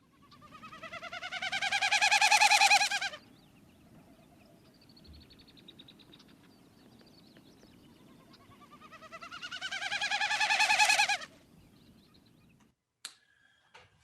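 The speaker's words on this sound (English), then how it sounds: "now I'll play the winnow, which is a mechanical wing noise actually of the Wilson snipe" Wilson's snipe winnow, a shorebird's mechanical wing noise, comes as two rising-and-falling tremulous bursts of about three seconds each, separated by quiet outdoor ambience, with a faint click near the end.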